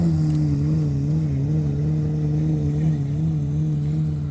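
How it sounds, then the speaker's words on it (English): A Pagani Zonda supercar engine running after starting, a loud, steady idle with a low droning tone that wavers slightly as the revs rise and fall, close by and alone. "Oh. 812 Comp's just started up. Oh. Well, Zonda's started."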